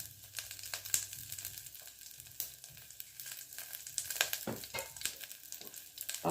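Dried red chillies and a pinch of asafoetida fry in hot oil for a tempering, making a soft, close sizzle scattered with small crackles and pops.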